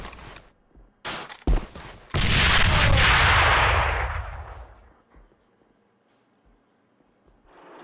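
Gunfire in Alliance of Valiant Arms during an ESL Autumn Cup semifinal match: a few sharp separate shots, then a long loud burst of rapid fire that rolls on for about two seconds before fading, with faint clicks after.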